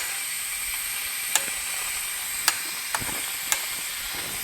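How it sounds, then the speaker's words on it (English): A torque wrench tightens a part in the engine bay of a 2020 Mercedes SLC300, giving a few sharp separate clicks over a faint background hiss. "here's our torque wrench set to 25. And we're going to torque this."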